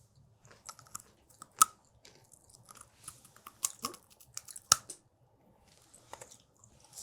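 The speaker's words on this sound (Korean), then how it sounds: "완전 바삭바삭하고 바삭한 약과" Crisp, crunchy chewing of yakgwa, a Korean honey cookie, close to the mic, a handful of sharp bites and crunches scattered irregularly over several seconds with quiet pauses between.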